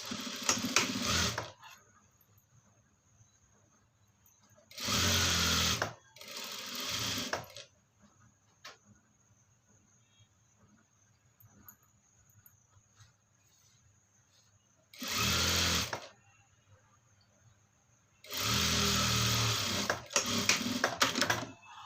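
A sewing machine stitches the seams of a blouse in five separate bursts, each loud, steady and close, lasting about one to two and a half seconds, with quiet gaps between them and no talking.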